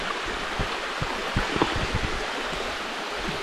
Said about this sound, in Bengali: ঝর্ণার পাশ দিয়ে যাচ্ছি।